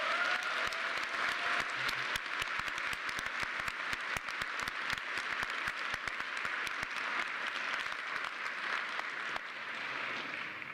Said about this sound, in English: if you wouldn't mind giving your faculty a round of applause